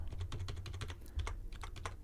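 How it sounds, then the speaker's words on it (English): Computer keyboard keys pressed during note entry in music notation software: a quick, uneven series of close, light clicks and taps, about a dozen strokes, with no talk. "I go up and down with the arrow keys on the keyboard"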